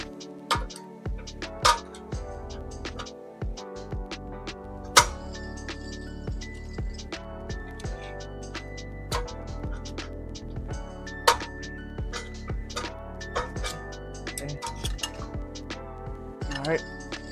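A brake shoe adjuster on a BMW E46 330Ci drum brake being tightened until the rotor will no longer turn, giving sharp metallic clicks and ticks in an irregular run over steady noise, with some talk nearby.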